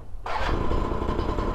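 A two-stroke scooter engine with a throttle fault catches abruptly and settles into a loud, buzzing high-revving idle, close by and alone.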